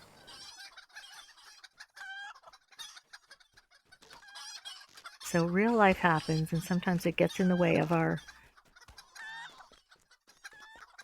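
A player-controlled chicken in Lord of the Rings Online clucks and crows during a Free Range Chicken Run, with a loud burst of layered clucking and crowing in the middle, while a voice talks over sparser clucks.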